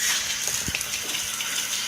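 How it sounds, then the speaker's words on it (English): Water gushes steadily into a container of sunflower seeds set out for sprouting, a continuous pouring hiss with a slight splash partway through and no talking. "So I'm going to fill this up with water"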